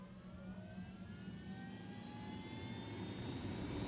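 Helicopter in the Ghost Recon Wildlands video game, a steady engine and rotor drone that slowly builds in loudness and pitch over a few seconds, with no voices.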